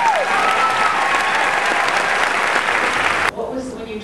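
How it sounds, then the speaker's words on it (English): An audience applauds loudly in an indoor event space, a dense, sustained burst of clapping that cuts off abruptly near the end, followed by faint talking. "Let's give them a round of applause."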